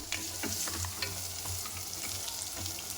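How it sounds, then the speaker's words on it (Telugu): Goat trotters with skin fry in oil in a pan, a continuous crackling sizzle at moderate level with occasional light stirring scrapes and pops, no voices. "అది మంచిగా ఆయిల్లో ఫ్రై అయ్యే వరకు ఫ్రై చేసుకోవాలి"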